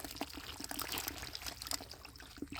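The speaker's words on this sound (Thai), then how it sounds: "น้ำไหลมาแล้ว" Water pours and splashes steadily into a fish pond, a continuous rushing flow with small irregular splashes throughout, fairly close and without any talking.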